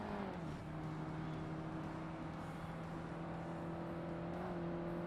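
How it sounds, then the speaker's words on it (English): A car engine in the Forza Motorsport racing game hums quietly at a steady pitch with a slight dip early on, a faint continuous drone with no talk over it. "the engine of this car is rather quiet"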